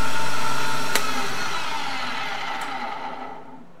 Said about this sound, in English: the way we do that is we grind it in the valve grinder machine